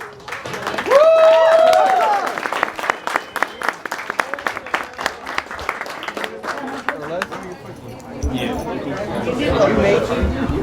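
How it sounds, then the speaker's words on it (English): Crowd applause and cheering at a NorCal car show, starting as a loud burst with whoops, then settling into scattered clapping and chatter while voices talk nearby. "let's give it a round of applause to everybody here"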